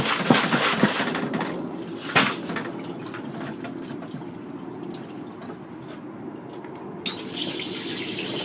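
Water rinses brass cartridge cases and steel pins in a Frankford Arsenal wet tumbler drum, giving a steady splashing rush with sloshing bursts and a few sharp knocks as the drum is shaken.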